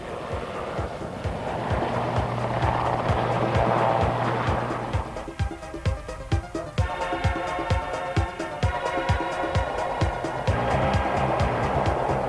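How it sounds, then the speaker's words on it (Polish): Two Sea King navy helicopters fly at the 1995 Gdynia naval aviation air show during a rescue demonstration: a loud turbine roar, then a rhythmic rotor chop that pulses steadily through the second half. "Dwa potężne śmigłowce Sea King szybko dotarły w rejon akcji."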